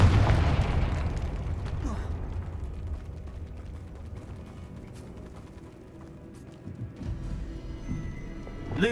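A Confringo blasting spell goes off in the Hogwarts Legacy video game, a loud booming burst at the start that rolls into a low rumbling decay, followed by a few smaller pops and thuds near the end.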